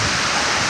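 Tinago Falls in Iligan roars as a continuous, loud, broadband wash of falling water, steady and close, with no voices over it.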